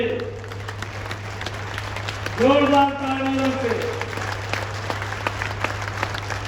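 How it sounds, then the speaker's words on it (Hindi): Rally crowd clapping to welcome senior BJP leader Rajnath Singh at a nomination event in Rohtak, Haryana, with a loudspeaker voice and mains hum alongside, the clapping swelling briefly midway. "जोरदार तालियों से"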